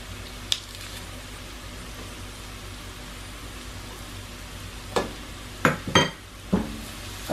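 Garlic dropped into a pan of lightly browned onions sizzles and fries steadily, with a few louder scraping stirs and clatters near the end.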